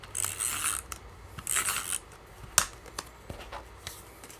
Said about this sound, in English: I'm going to go ahead and use my tiny little tape runner for this